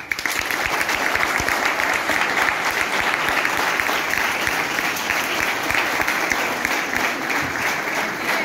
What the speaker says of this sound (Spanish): Recibimos con otro aplauso a Alex Pibes.